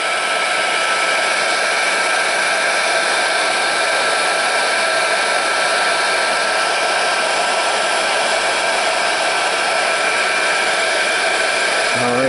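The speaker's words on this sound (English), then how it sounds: "Get our heat gun. Apply heat to the heat shrink." A heat gun blows steadily and loudly to heat shrink tubing while Dean battery connectors are being soldered, a constant uninterrupted roar of fan and hot air that runs through the whole stretch with no talking.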